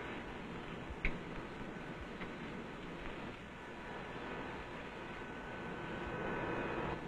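Radial piston engine of a Lockheed Constellation airliner, number 3 engine, cranking over during start, a steady broad rumbling drone with a brief sharp pop near the start and a slight rise in loudness toward the end.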